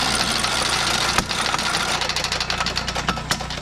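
A walk-behind mower engine with a blown connecting rod runs loudly up close, a rough idling drone with irregular metallic knocks and clanks.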